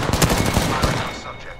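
Rapid automatic gunfire in a battle-royale style video game, a dense burst of shots that is loud and close at first, then slowly tapering off.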